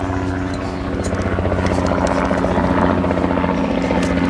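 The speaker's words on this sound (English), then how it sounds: "There's a helicopter." A helicopter passes overhead, its loud rotor thump and engine drone steady and continuous throughout, with no talking over it.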